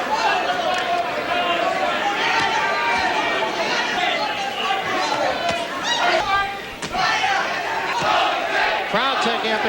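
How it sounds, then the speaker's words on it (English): A boxing arena crowd roars and chants a fighter's name in a loud, dense, continuous wall of voices, with shouts and cheers rising throughout. "Crowd taking up a chant of Jose."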